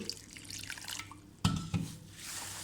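Water splashes and drips as mashed sour cherries are strained through a sieve for sour cherry juice, with a soft wet trickle and a couple of louder splashes midway.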